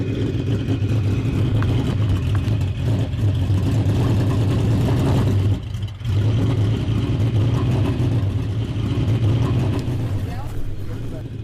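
A Ferrari 512S Modulo race car engine runs loud and steady with a continuous mid-pitched roar, briefly dipping near the middle before resuming.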